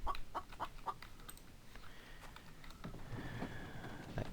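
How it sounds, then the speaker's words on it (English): Chicken clucking in the video game The Infected, a run of quick faint clucks at the start followed by softer scattered calls and a longer squawk toward the end, alone without speech. "That chicken's gonna get it soon."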